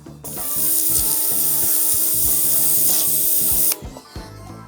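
A Dnipro-M PW-14B pressure washer blasts water across paving tiles in a loud, continuous hissing roar with a steady motor hum underneath, close by, cutting off near the end as the spray stops.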